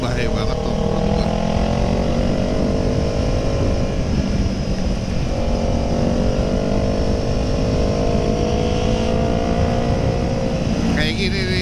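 A Kawasaki ER6N motorcycle engine drones loud and steady while riding, its pitch rising and falling with throttle, under continuous wind noise, with someone talking over it.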